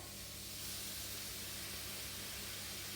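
Softened onions hiss in a pan as tinned tomatoes go in for a sausage casserole, a steady, quiet, even sizzle with no speech.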